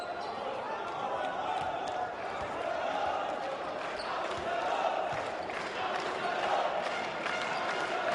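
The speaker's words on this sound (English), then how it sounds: "The classic Dominican cheer of abuser, referring to the referees" Dominican basketball crowd in an arena in Mar del Plata chanting at the referees, a steady loud rumble of many voices throughout, with bouncing and court noise mixed in.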